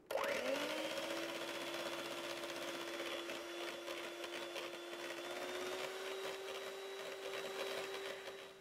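Cold cream whipped with an electric hand mixer makes a steady, close motor whine that holds at one pitch for several seconds and rises slightly near the end, with no talk over it.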